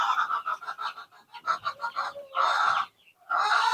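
Chickens cluck repeatedly on a small home poultry farm raising Kuntara and KUB chickens, followed by a longer loud crow from a rooster, fairly near with no talking.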